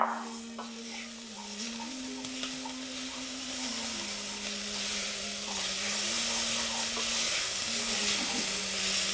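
Chopped garlic goes into a pot of Moroccan harira soup, giving a faint, steady sizzle and hiss over a low hum that stays fairly even and continuous.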